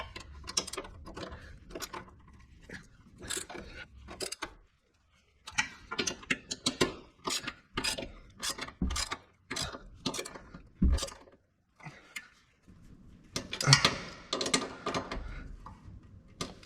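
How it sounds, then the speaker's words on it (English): A ratchet with an extension tightens the running board bracket screws on a 2021 Nissan Titan Pro4X, giving close, repeated bursts of rapid metallic clicking with short pauses between strokes. "Put my extension on so that I can do the bottom screws."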